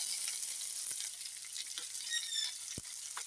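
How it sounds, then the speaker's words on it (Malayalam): Chopped onion hits hot oil in a pan and sizzles steadily, a quiet, hissing fry with a few small pops and scrapes and no talking. "ഇനി നമുക്ക് ഇതിലേക്ക് അരിഞ്ഞ് വെച്ചിരിക്കുന്ന സവാള ഇട്ട് കൊടുക്കാം."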